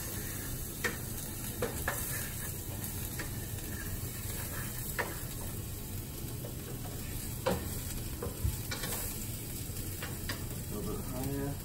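Egg whites frying in a pan make a soft continuous sizzle, quiet and steady, with occasional light ticks and taps of a utensil over about twelve seconds and no clear voices.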